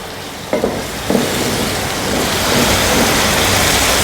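Freshly ground ginger-garlic paste hitting hot oil for fish biryani, two sharp splashes followed by a loud, steady sizzle that swells and holds.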